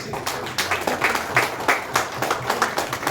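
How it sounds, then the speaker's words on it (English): An audience at a Verna Industrial Estate event claps in a steady round of applause for a school awardee, with the claps clearly audible, moderately close and unbroken by speech. "Sarah Gomes, big round of applause."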